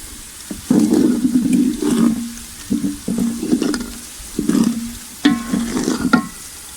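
Onions frying in a pan for chicken fried rice, a steady loud sizzle broken by repeated bursts of stirring and scraping, close up with no talk.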